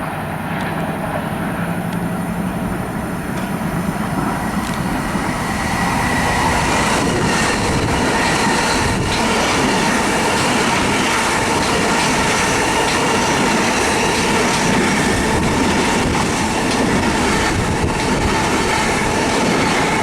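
A Long Island Rail Road train bound for Ronkonkoma passes near Floral Park station, a loud continuous roar of rolling wheels and rail noise with faint clickety-clack, heard close and alone.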